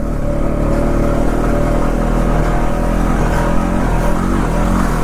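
A 2020 Honda Rancher 4x4 ATV drives in four-wheel drive on soft sand, its engine a steady close drone with slight shifts in pitch as it moves.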